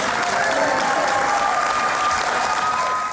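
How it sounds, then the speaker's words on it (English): Sustained crowd applause at a 2023 academic awards banquet for third-year high school award recipients, a thick continuous wash of clapping with a murmur of voices underneath. "Let's give them a round of applause"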